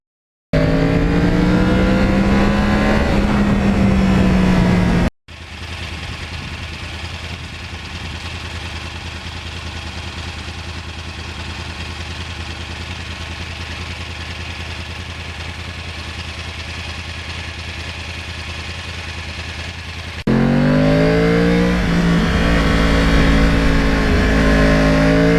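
A one-owner 2009 Yamaha R1 crossplane with 35,000 miles, revving loudly at high RPM with the throttle wide open. A sustained, steady roar fills the middle, with rising and falling revs at the start and end, and no talk.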